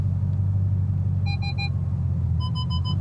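A Bugatti Chiron Sport creeps slowly through a tight road narrowing, its engine a steady, deep low rumble, while two short bursts of repeated electronic beeps chime over it.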